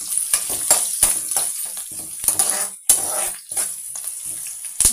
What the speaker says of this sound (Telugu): ఆయిల్ వేసుకున్న తర్వాత, ఆయిల్ వేడెక్కిన తర్వాత ఇలా ఆనియన్స్ వేసి